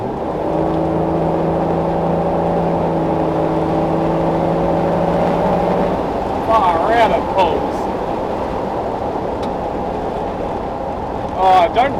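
Turbocharged BMW M57 diesel swapped into a Range Rover P38 accelerating at full throttle, a loud steady engine drone with a rising whine inside the cabin, easing off after about six seconds, with occasional voices.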